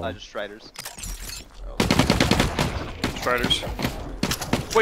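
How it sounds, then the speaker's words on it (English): Rapid gunfire aimed at a Strider enemy in The Cycle Frontier, a loud continuous burst of shots from about two seconds on, with people talking over it at the start. "I was shooting the Strider so it doesn't fucking get to us"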